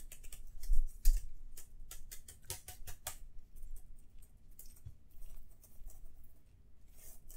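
Keys clatter on a computer keyboard as someone types a journal entry, a quick irregular run of clicks, busiest in the first few seconds and then thinning to sparse taps, fairly close and quiet with no talk.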